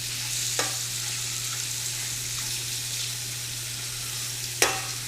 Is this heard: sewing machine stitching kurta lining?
no